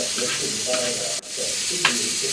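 Fish curry masala with coconut sizzles in a pan, with scraping stirring strokes and a steady frying crackle over a couple of seconds.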